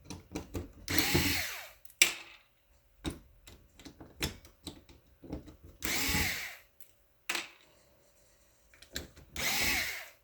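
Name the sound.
removing circuit board screws with #1 Phillips screwdriver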